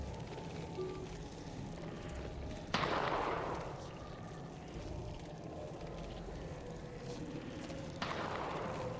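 Two distant, muffled gunshots from a Call of Cthulhu tabletop session, each a sharp crack with a short decaying tail, several seconds apart over a quiet ambient background.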